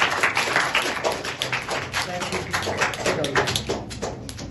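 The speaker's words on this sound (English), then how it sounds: "Huge clap for him." A classroom crowd at an educators' academy claps enthusiastically, with dense, fast applause that stays loud and steady for a few seconds.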